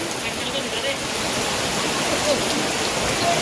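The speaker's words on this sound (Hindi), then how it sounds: "बारिश हो रही है तगड़ी वाली" Heavy monsoon rain pours steadily in Pushkar, a dense hiss of water close by, continuous and unbroken.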